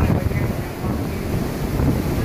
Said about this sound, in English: We caught a wind gust of well over 200 kilometres an hour now.